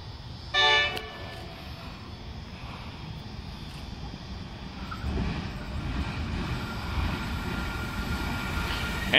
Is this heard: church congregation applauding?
no